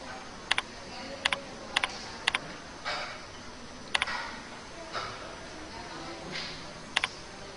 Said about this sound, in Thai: คลิกเมาส์